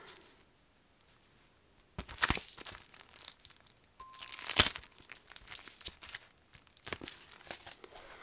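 Plastic wrapping on a mailed package crinkles and tears in irregular close-up bursts as it is opened, with quiet stretches between.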